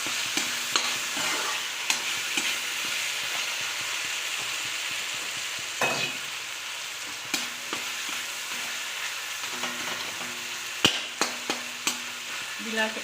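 A spoon scrapes and taps through egg curry with peas in a pan, irregular stirring clicks over a soft, steady sizzle, with no one speaking.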